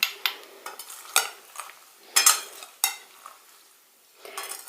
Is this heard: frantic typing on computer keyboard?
no